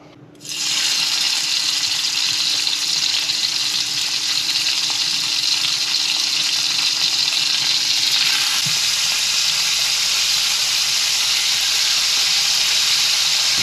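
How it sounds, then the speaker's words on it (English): Meat hits a hot skillet with a sudden loud sear, then a strong, even sizzle carries on unbroken at close range. "Gonna let this skillet get up to high temperature, and then we're gonna sear this on each side"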